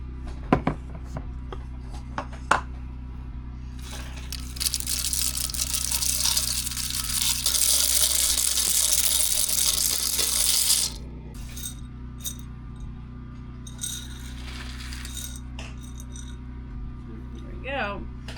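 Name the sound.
water being added to a jar of beans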